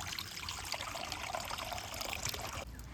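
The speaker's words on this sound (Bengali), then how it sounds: "কড়ার মধ্যে কিছুটা জল দিয়ে ভালো করে গরম করে নেওয়া হবে" Water trickles and pours steadily into a wok set over a stove, a continuous close splashing stream that runs for a few seconds before thinning slightly at the end.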